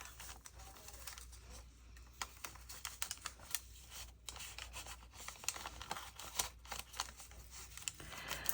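Scissors snip through layers of paper and kraft ephemera in a series of quick, crisp cuts and rustles, close and fairly quiet, irregularly spaced over soft handling noise.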